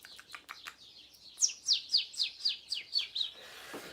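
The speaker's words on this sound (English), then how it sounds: "Can you hear those birds?" A bird sings outdoors, a quick run of about ten bright descending chirps in steady rhythm after a few scattered calls, clear and fairly close with no voices.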